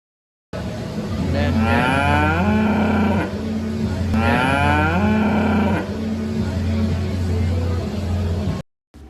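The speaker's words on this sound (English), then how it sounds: "This little cow was pretty boisterous when we was walking by" A young cow at a state farm show gives two long, loud, nearby moos, each a drawn-out bellow of a few seconds, over steady indoor hall background noise.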